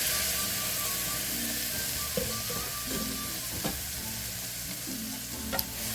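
Green enchilada sauce sizzling as it is stirred into crispy carnitas pork in a hot pan, a loud continuous fry hiss with spoon scrapes and taps, alone without talk.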